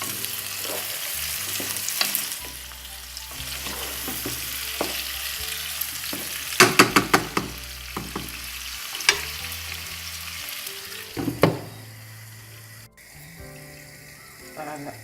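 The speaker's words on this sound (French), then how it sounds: "je laisse encore revenir pendant 2 à 3 minutes avant de mettre la tomate fraîche" Chopped parsley and garlic sautéing in a pot, a steady sizzle and fry broken by clinks and scrapes of a spoon stirring, with a brief run of water partway through.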